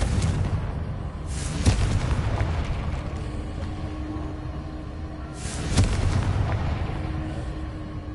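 Two Confringo explosion spells go off in Hogwarts Legacy on PS5, each a sharp blast that rolls away into a rumble, spaced several seconds apart over steady low background game noise.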